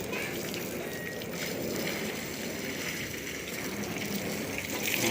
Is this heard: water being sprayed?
yes